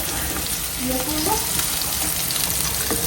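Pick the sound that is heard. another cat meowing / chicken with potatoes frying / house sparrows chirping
chicken with potatoes frying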